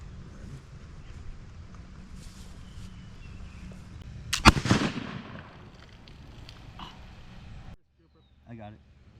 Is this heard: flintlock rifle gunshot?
yes